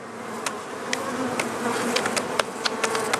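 Honeybees fill a crowded hive of about thirty thousand bees with a dense, continuous buzzing drone, as individual bees whir close by now and then, heard alone without voices.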